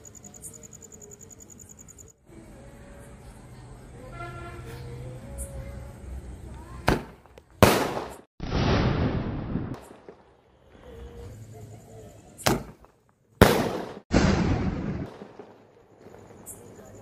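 A Lovely brand two-sound firecracker goes off twice, each time a sharp crack followed by a booming blast with a long rumbling tail, outdoors among chirping insects, with some talk beforehand.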